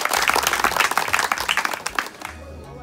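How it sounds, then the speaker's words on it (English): Audience applause at a campaign event in Nigeria: a dense, loud burst of many hands clapping that keeps going for about two seconds, then thins out and fades. "I want you to clap for yourself"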